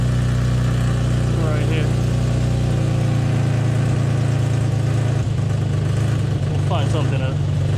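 Infiniti G35 engine idling with an exhaust leak, a steady loud low rumble throughout while someone talks over it up close.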